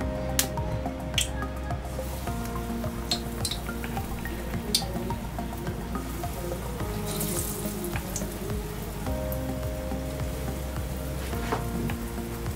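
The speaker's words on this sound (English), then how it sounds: "right now I want to fry the blended beans with the egg in it" Blended beans mixed with egg frying in hot oil for Nigerian akara, a steady crackling sizzle with wet squishy pops and spatters running throughout, close and fairly loud with no talking.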